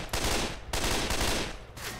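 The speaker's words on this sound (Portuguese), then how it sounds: "Eu não gostei muito desse modo de tiro dessa arma. É um modo de rajada, né? Dá três tirinhos." Burst-fire gunshots from Left 4 Dead 2 sound close and loud in quick three-round bursts, with two full bursts and the start of a third separated by short gaps.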